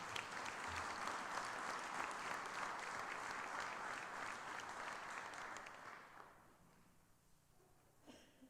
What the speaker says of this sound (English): let's have a round of applause for Gloria.